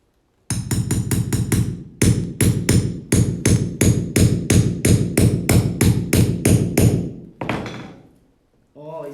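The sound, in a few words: hammering nails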